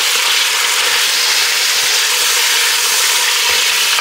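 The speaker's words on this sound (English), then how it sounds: "We're gonna drop some bacon in. So I cut some bacon up. And get some bacon cooked down." Chopped bacon frying in a pan of hot oil, a steady close-up sizzle and crackle that continues evenly throughout with no talking.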